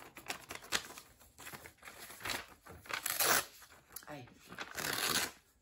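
A large sheet of paper being cut and torn at close range, with bursts of crisp rustling and ripping between quieter pauses; a voice briefly speaks.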